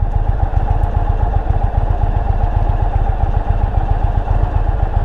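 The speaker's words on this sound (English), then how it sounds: "the bike rattles" A 2021 Indian Roadmaster motorcycle on a test ride, its engine throbbing loudly and steadily at close range along with a dense, even rattle and wind rush, with no pauses.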